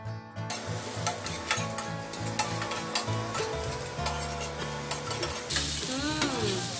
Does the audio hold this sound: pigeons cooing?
no